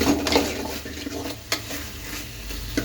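Paneer and mushroom chili being stirred and mixed in a pan, with a steady frying sizzle under repeated scraping and clinking of a spoon against the metal, close and moderately loud, with no talking.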